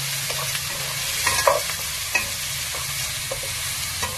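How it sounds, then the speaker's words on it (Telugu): Curry leaves frying in a pan for a stuffed bitter gourd curry, a continuous dense sizzle with a few light knocks and scrapes as they are stirred, close up and without speech. "కొద్దిగా కరివేపాకు కూడా వేసుకుంటున్నాను. బాగా వేగనివ్వాలండి."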